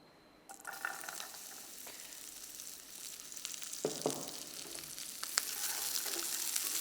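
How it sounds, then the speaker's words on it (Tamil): Chopped pirandai (veldt grape) sautés in hot oil with a steady, close broadband sizzle that starts abruptly and runs throughout, with occasional stirring clinks and crackles rising slightly toward the end. "இப்போ வந்து நம்ம வெட்டி வச்சுருக்கிற பிரண்டையை வந்து எண்ணெயில் நல்லா வதக்க போகிறோம்."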